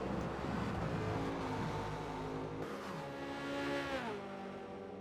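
Race cars in a Le Mans video game drone loudly at high revs, the pitch sliding down as they brake into the second Mulsanne chicane and climbing again, with a commentator faintly over it.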